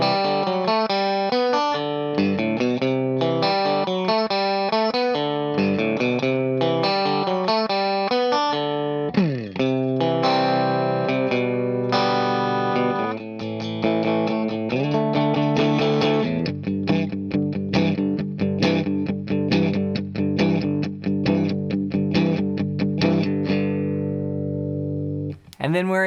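Electric guitar plays the opening riff of a song, a bright, twangy, moderately fast walk-up line of clean single notes and double stops with a steady rhythm and no talking.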